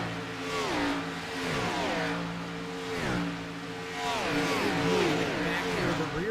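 Race cars of the USA Pro Cup Series circle an oval track under the lights, engines droning and rising in pitch as the pack passes through a turn, with a commentator talking steadily over the noise.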